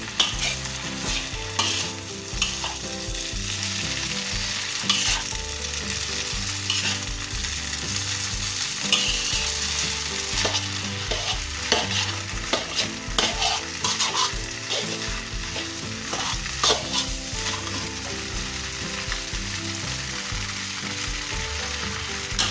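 Rice vermicelli with meatballs and carrots is stir-fried in a pan, a loud continuous sizzle under busy, repeated scraping and clattering strokes, close up for a long stretch with no speech.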